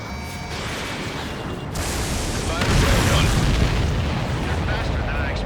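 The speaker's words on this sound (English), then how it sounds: "Did you see that explosion?" A deep, booming explosion in the Ace Combat 7 flight combat game, rumbling loudly over a steady roar of engine noise and swelling midway before trailing off into a sustained low rumble.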